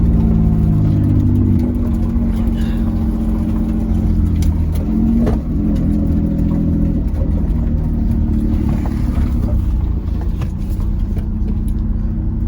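A 2003 Mitsubishi Eclipse GTS engine idling loudly up close and being revved in neutral, a steady low rumble that swells with a few throttle blips.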